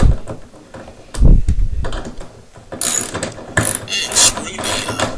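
A toilet flange is screwed down to the floor with a ratcheting tool, giving bursts of rapid clicking and grinding that stop and start, close and fairly loud.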